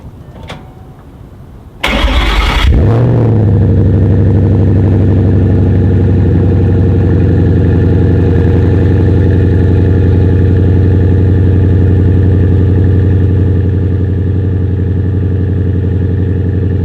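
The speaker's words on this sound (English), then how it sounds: "Let's get a cold start so you guys can hear what this thing sounds like." Ford Mustang Boss 302 with a Flowmaster American Thunder cat-back exhaust cold-starting: a short starter crank, then a loud bark as the V8 catches, settling into a deep, steady, rumbling high idle held close up to the end.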